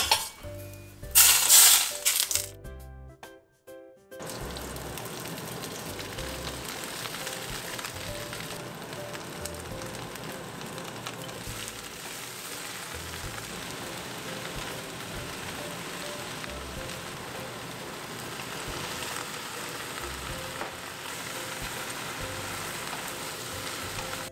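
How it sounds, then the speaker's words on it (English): A loud crackle of hot oil poured over fish bursts at the start, then settles into a steady, close sizzling hiss that continues evenly for a long stretch. "you're gonna take the hot oil and you're gonna sizzle it over the fish"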